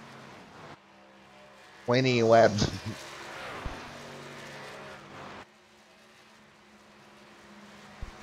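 Race trucks thunder down the front straightaway at Indianapolis during a Truck Series race, engines roaring past loudly midway then fading to a distant drone, with a commentator talking over the action.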